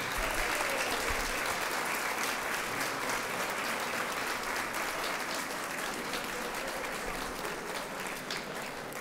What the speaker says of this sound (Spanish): quiero empezar dándole un abrazo y un aplauso solidario a todos los ex legisladores de la Cámara y del Senado de Puerto Rico.